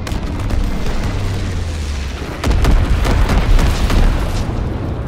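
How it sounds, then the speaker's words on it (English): Incendiary bomber strike in Call of Duty: WWII: a low rumble gives way to heavy, booming explosions that roll on together, loud and close. "Low altitude bomber inbound. Incendiary mission commenced."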